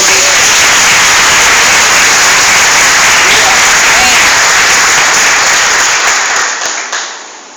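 A church congregation applauds in a dense, loud, sustained wash of clapping that fades out toward the end, with a voice speaking faintly beneath it.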